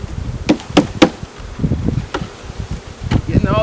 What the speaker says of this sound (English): All these bees swarming around me